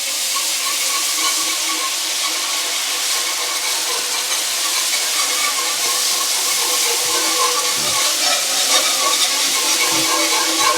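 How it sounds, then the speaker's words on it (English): Water poured into browned flour in a pan and whisked in while stirring, a steady loud hiss and sizzle of liquid hitting the hot pan with faint scraping of the whisk, no talk. "We're going to add 2 cups of water to this mixture, and we're going to whisk that in as we stir it."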